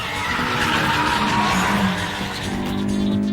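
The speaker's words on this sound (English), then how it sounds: "The screwed up condition of this road is making my car shake." A car in an anime dub runs hard over a broken, rough mountain road, with loud continuous engine roar and tire scrubbing that holds steady throughout, racing against the uneven surface.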